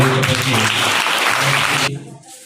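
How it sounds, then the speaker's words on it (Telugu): A burst of audience applause at a school foundation event, with a voice speaking over it, cutting off abruptly near the end. "మీ అందరు చప్పట్ల మధ్య"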